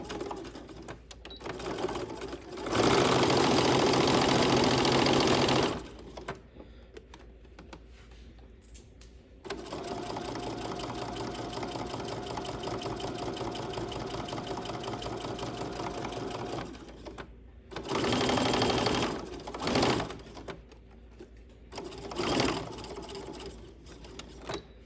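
A sewing machine stitches along a welt pocket facing in several long, steady runs, with quiet gaps and handling noise between the bursts.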